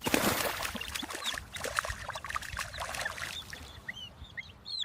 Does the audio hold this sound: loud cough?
no